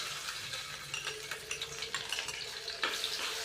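Ginger garlic paste sizzling and frying in hot oil in a pan for a chicken masala fry, a steady close crackle with light spoon clinks.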